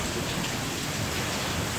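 Heavy stormy rain pours down in Lahore with strong wind, a dense, steady roar close by that fills the whole clip without any voices.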